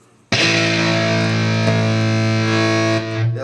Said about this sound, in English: Now here's with the boost, okay?